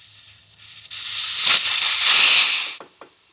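Air hisses out of a tire valve stem as the valve core is removed, a loud close rush swelling for about two seconds then cutting off, followed by faint clicks.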